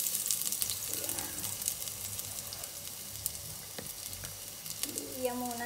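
Ginger sizzles in hot cooking oil in a pan, a steady crackling fry with occasional scrapes and clinks of a utensil, and a brief voice near the end.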